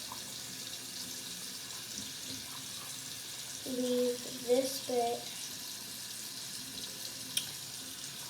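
Water runs steadily from a household tap with the cold side turned down, a soft continuous rush that holds throughout while a voice speaks briefly midway.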